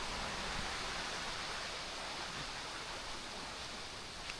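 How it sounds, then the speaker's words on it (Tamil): A waterfall pours down in a mountain forest, a steady broadband roar of rushing water that stays constant and fairly close throughout, with no voices. "அங்கே ஒரு அருவி கொட்டுதுங்க."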